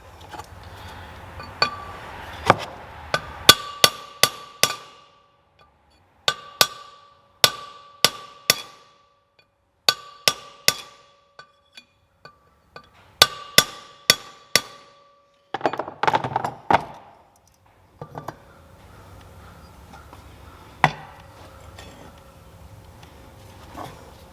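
An aluminum drift is hammered against a wheel bearing race on a PJ 10K landscape trailer. Sharp metallic strikes land in quick bursts of several blows, separated by pauses, close and loud.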